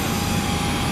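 An airplane's engines drone steadily while passengers walk out across the apron to board a flight home to Taipei before dawn, a continuous loud roar with no voices.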